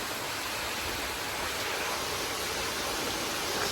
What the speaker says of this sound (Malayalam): കാറ്റൊക്കെ ഭയങ്കരമായ കാറ്റടിച്ചുകൊണ്ടിരിക്കുമോ